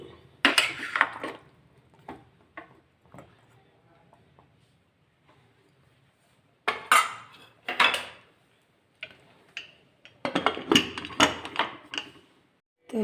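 A spoon scrapes and clanks against a metal pressure cooker, stirring stuffed mixed vegetables in irregular bursts, with quiet pauses between, close by.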